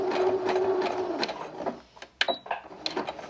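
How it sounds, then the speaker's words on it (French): A sewing machine stitches a zigzag over a small hole in a pair of trousers, running in short bursts forward and back with brief pauses and a sharp mechanical clack near the end, close and clear. "je me place juste à côté du point zigzag que je viens de faire et je recommence un autre point zigzag"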